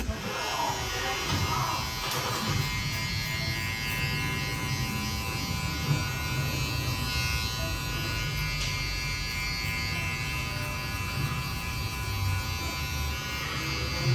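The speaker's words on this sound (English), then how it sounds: "that's the clipper. We're gonna have to give this thing a go, put it to use today." A Gamma X-Pro hair clipper with a gold blade runs steadily and close, a continuous electric buzz with a bright high whine and no pauses for the whole stretch.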